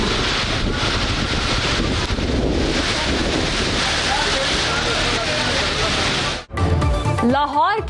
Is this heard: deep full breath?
no